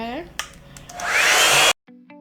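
A hair dryer blow-drying hair, its motor whirring up into a loud steady rush of air for about a second before cutting off abruptly, with soft clicks and a brief tone after.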